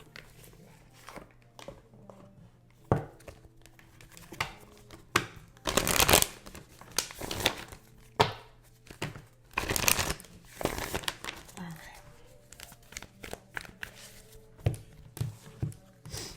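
Tarot and oracle cards are shuffled and handled close by with soft papery riffles and slides, two louder shuffling bursts, and scattered taps as cards are pulled and set down.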